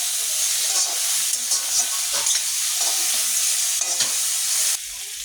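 Pork with spices sizzling in a pan as pre-fried tomatoes are stirred in, producing a loud, steady hiss and crackle broken by scraping stirs, then dropping suddenly near the end.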